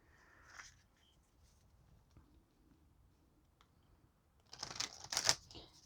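Tarot cards being shuffled by hand, with a short soft riffle at the start, a near-silent stretch, then a louder, crisp burst of flapping card riffles close by near the end.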